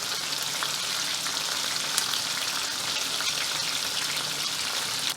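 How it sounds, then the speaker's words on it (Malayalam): Prawns fry over a medium flame for chilli prawns, giving a dense, even sizzle up close with scattered crackles and a brief clink near the end. "ഇതൊരു മീഡിയം ഫ്ലെയിമിൽ ഒരു 3 മിനിറ്റ് കേട്ടോ ഒന്ന് ഫ്രൈ ആക്കുക"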